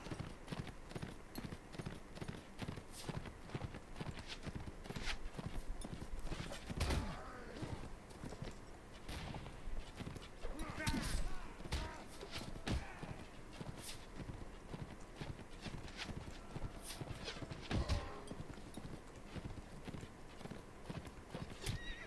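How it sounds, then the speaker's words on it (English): Horse hooves gallop in Mount & Blade: Warband, a fast, steady clip-clop rhythm with occasional sharp louder strikes and a whinny, fairly quiet and with no talk over it. "this is a really fast horse"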